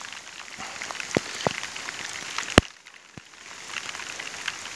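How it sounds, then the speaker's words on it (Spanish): Rain falls steadily during a downhill ride on a Yamaha YZ450F dirt bike, a soft continuous patter with a few sharp drip clicks and knocks, fairly faint and with no talk. "Lloviendo, bien machín."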